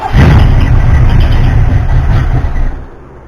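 A Ford 351M/400 V8 sputters to life on leftover fuel in the carburetor, a loud, rough low rumble running steadily for under three seconds before cutting out abruptly.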